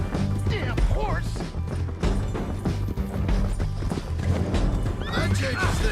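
A horse in the Red Dead Redemption 2 video game whinnies repeatedly over clattering hooves, with loud game sound and music mixed in throughout.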